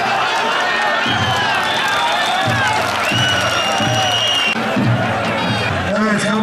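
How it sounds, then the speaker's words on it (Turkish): An audience claps and cheers with whoops at a religious-themed gathering, mixed with voices and musical tones over a busy, continuous crowd bed. "Yiğit aslanlara can gönülden alkışlarla diyelim maşallah."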